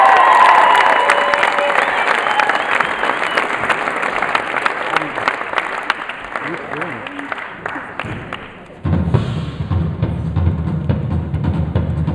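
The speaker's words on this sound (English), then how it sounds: "everyone will give you a massive round of applause" Audience applause with cheering fills a live performance venue, loud and dense with bright claps and crowd noise for about eight seconds, then abruptly gives way to low rumbling background sound.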